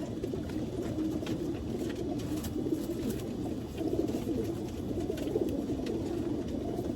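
Racing pigeons cooing steadily in a loft, a continuous low, murmuring chorus of many birds close by, with no pauses and no talking.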